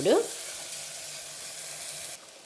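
Garam masala and spices sizzle in hot oil in a pan for pudina rice, a steady close hiss after a brief stirring scrape at the start.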